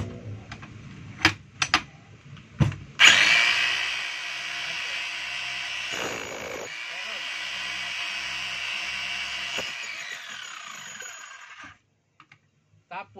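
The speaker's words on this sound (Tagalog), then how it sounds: "ito mga kabay ay Stanley 5 kilos jackhammer ng Stanley" A Stanley STHM5 5 kg demolition hammer with weak chipping blows gives a few sharp knocks, then runs for about eight seconds with a steady, fairly loud mechanical whir before shutting off.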